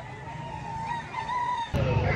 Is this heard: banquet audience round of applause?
no